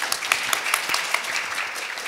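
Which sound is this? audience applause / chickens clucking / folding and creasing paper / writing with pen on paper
audience applause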